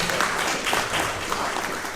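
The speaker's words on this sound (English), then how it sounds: "Please give him a round of applause" A crowd at an African young leaders awards event applauds a farmer honoree, a dense unbroken wash of clapping that holds steady and fairly loud throughout.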